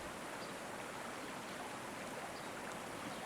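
Steady flowing stream water, a soft, even rush that continues without a break and with no voices.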